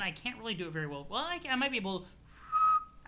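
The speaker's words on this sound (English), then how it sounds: "I can whistle, but I can only whistle if I'm breathing in" A person talks briefly, then whistles while breathing in, a thin, wavering whistle that settles into a steadier tone at the end.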